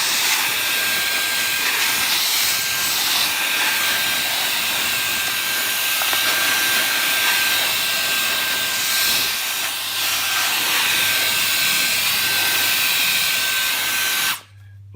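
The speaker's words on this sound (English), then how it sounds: "this little WolfBox is a little tornado in your hand. It can blow stuff all over the place." A handheld WolfBox jet fan air duster blows hard at a pile of metal nuts, making a loud, continuous high-pitched whine and rushing hiss that holds steady for the whole stretch and then cuts off abruptly.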